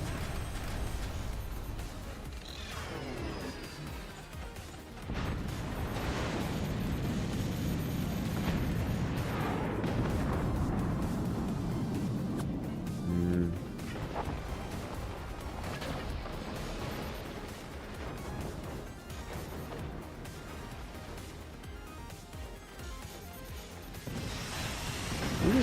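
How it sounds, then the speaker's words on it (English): Mortar shells exploding in a multiplayer strategy game, heavy booms and crashing blasts over a long stretch of dense, rumbling battle noise. "Are you just missing the mortars now?"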